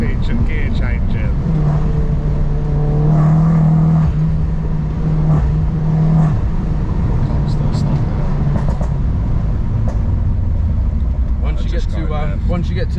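A Vauxhall Corsa E VXR with a stage 3 engine runs loud and close, giving a deep steady rumble with a sustained drone mid-way, rough revving and faint crackle, with talk at times over it.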